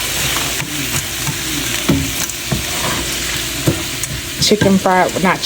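Onions and peas fry in a pan with oil for vegetable fried rice, giving a loud close sizzle with repeated stirring scrapes and clacks, and a brief voice near the end.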